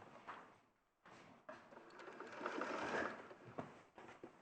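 A sewing machine stitches in a quiet room, its faint whirring coming in short, uneven bursts with brief pauses between runs.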